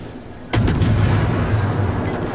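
A single heavy naval gun salvo fires in the World of Warships video game, an abrupt loud boom followed by a low rumbling roll that lingers for about two seconds, with no talk.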